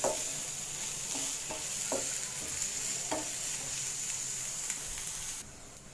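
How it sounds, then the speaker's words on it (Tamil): Chopped onion and green chili sauté over a medium flame for egg kothu chapati. A steady frying hiss runs throughout, with repeated spatula taps and scrapes, then eases quieter near the end. "இப்போ பாருங்கள் வெங்காயம் ஓரளவுக்கு வதங்கியிருக்கு"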